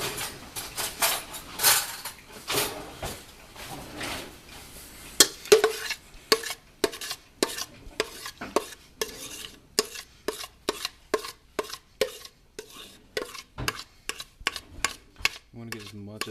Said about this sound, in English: Get a scrape and scrape it into it.